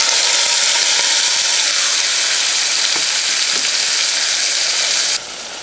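Puliyogare mixture fries with curry leaves in a hot pan, a loud continuous sizzle with faint stirring scrapes, dropping suddenly quieter at the very end.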